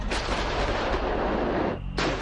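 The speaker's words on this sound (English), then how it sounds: "The high fire rate of this howitzer makes it possible to fight enemies on distance up to 40 kilometers in a very short sequence." German PzH 2000 self-propelled howitzer firing, a loud, sustained blast and roar filling the whole clip, with a brief drop near the end before another boom erupts.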